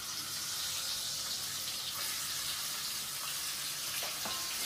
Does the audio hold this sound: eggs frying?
yes